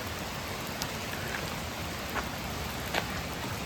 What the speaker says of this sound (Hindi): तो बारिश हो गई है चालू